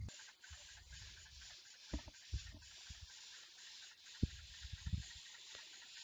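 A homemade rotating tumbler built from an old printer runs with polishing media inside, giving a steady mechanical hiss and whir broken by soft irregular knocks and tumbling thuds, close and fairly quiet.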